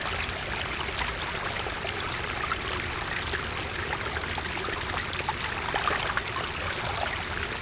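Mountain stream flowing in cold, wet winter conditions while a water bottle is filled, a steady rushing and trickling wash of water, close and fairly quiet, with no talk.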